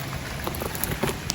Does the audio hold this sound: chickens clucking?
no